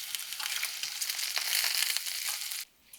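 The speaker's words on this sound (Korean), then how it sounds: "한 끼 식사에 단백질이 빠지면 섭섭하니까 얇은 고기도 구워준다." Thin slices of meat fry in a hot pan with a loud, dense, steady sizzle that crackles continuously, then cuts off abruptly just before the end.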